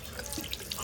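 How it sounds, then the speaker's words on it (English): Water runs steadily from a kitchen tap as hands are washed beneath it, a short continuous splashing stream close by with small drip-like accents and no talking. "Let's wash our hands."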